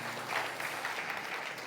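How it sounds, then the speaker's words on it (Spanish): Congregation applause in a church service, a soft continuous patter of many hands clapping at a distance, steady and fairly faint for under two seconds with no voices. "Dele un fuerte aplauso al Señor Jesús"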